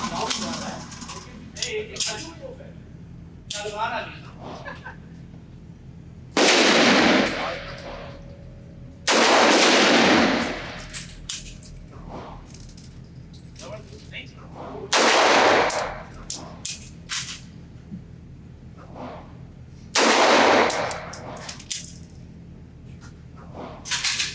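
An FN Hi-Power DA Compact pistol fires double action at 7 yards on a range: about five loud, sharp shots spaced several seconds apart, with quieter handling noise between them.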